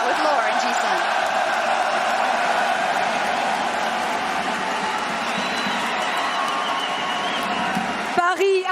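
A packed esports arena crowd at the League of Legends Worlds 2024 final in Paris cheers loudly and continuously for T1 and Gumayushi, a dense sustained roar with applause, ending in a brief burst near the close.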